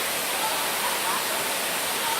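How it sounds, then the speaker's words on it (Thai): Sunantha waterfall in Tha Sala, Nakhon Si Thammarat, Thailand, roars as a dense, constant rush of falling water, loud and close, with no break across the short stretch. "น้ำตกสุนันท"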